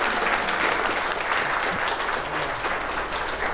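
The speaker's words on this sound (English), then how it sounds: "Give her a big round of applause." Audience at a beginners' property-flipping network event in Corpus Christi applauding steadily for several seconds, a dense continuous wash of clapping from a room full of people.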